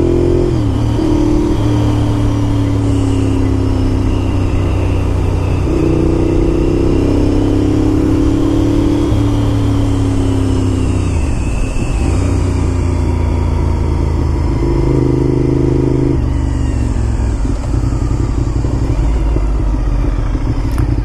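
A 2001 Honda RC51 motorcycle engine roars loudly during a test ride, rising through revs and dropping back at several gear shifts, with steady wind rush and no talking.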